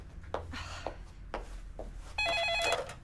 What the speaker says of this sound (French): Téléphone, chérie, tu peux répondre.